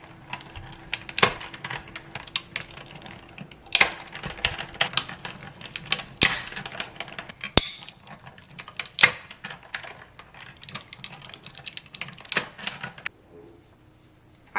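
A die cutting machine crunches through Grafix Matte Dura-lar film in a run of sharp, irregular clicks and snaps, close and fairly quiet, spread over about fourteen seconds and then stopping.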